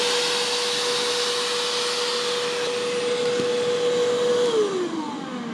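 Vacuum cleaner and drill running together off an Oupes Mega 1 power station, a steady loud roaring whine with a tone that drops in pitch near the end, no voices.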